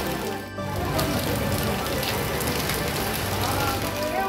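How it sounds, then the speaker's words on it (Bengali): Heavy rain pours outside in a steady, dense hiss and patter, loud and unbroken, with faint scattered drops standing out during a power cut on a Durga Puja night. "বাইরে এখন তুমুল বৃষ্টি হচ্ছে।"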